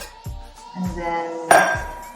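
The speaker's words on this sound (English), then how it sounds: "we fill this glass with ice first." Ice cubes dropped into a drinking glass while mixing a cocktail at home give several sharp clinks and knocks spread across a couple of seconds, close and fairly loud.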